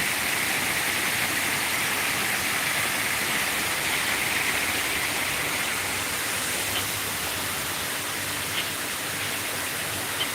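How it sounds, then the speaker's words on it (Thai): Steady, dense rush of falling water from a waterfall near a hillside coffee spot in Chiang Mai, Thailand. It sounds close and continuous, with no talking. "นี่มาใกล้ๆน้ำตกกันเลย"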